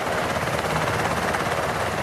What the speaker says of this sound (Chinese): 所落的送上乌鹰直升机